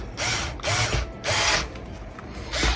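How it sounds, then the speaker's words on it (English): A cordless drill tightens a screw through a Murano garden glass flower orb in three or four short, loud whirring spurts separated by brief pauses, with a faint ratcheting click. "I'm going to use my cordless drill"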